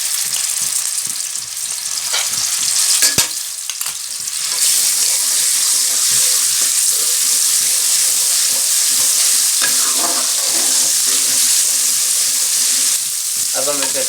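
Garlic paste frying in hot ghee in a wok, a steady loud sizzle that fills the whole stretch, with stirring and scraping sounds over it and a brief burst of clatter near the start.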